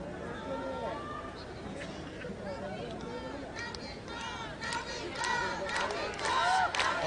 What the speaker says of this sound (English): let us cheer for both the participants.